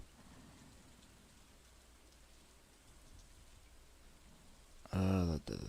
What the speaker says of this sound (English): oh shoot, it's raining actually